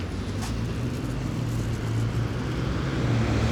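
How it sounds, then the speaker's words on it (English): Ferrari car driving past on a small street in Japan, a steady rumbling road noise that holds at moderate level throughout, with faint city ambience around it. "Another Ferrari."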